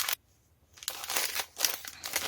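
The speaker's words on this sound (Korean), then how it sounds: "분리 작업일 모두 마친 실은 비닐팩에 색상별로 실을 100g씩 포장을 하고 있습니다." Plastic bags crinkle up close while sorted sock-neck yarn loops are packed by colour in 100 g portions, giving a few bursts of rustling with a brief pause between.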